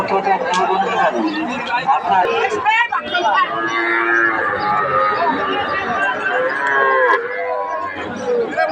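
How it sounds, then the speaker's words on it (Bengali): Sahiwal and other breed calves at Ambari cattle market in Dinajpur low and moo repeatedly, loud and close, over a busy crowd of traders chattering and talking throughout. "শাহিওয়াল এবং বিভিন্ন জাতের বাছুরগুলো"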